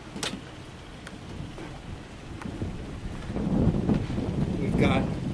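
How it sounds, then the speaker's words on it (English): Wind blows across a sailboat under way, a steady low rumble and buffeting that swells louder in the last couple of seconds, with occasional faint knocks from the boat. "there's a little bit of wind up today"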